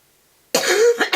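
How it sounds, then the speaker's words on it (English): A person gives a single sharp cough after a moment of silence, close and fairly loud, with a short second burst at the end. "I had to cough"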